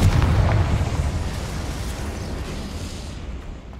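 A Confringo spell explosion in Hogwarts Legacy booms loudly and close, a dense burst that rumbles on and slowly fades over a few seconds.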